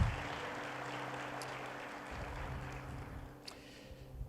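A church congregation applauds in a soft, distant wash of clapping over a low electrical hum, steady at first and thinning toward the end.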